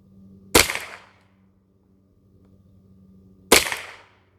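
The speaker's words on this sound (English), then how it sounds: "Looks like I'm almost shooting the same hole." Two sharp rifle shots fired from a shooting rest on a range, about three seconds apart, each a loud close crack with a short decaying tail over a faint steady hum.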